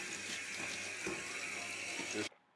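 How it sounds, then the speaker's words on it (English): Running water from a tap rinses metal BBQ grates and racks in a sink, a steady close hiss and splash that cuts off abruptly near the end. "all the racks are just getting a quick rinse"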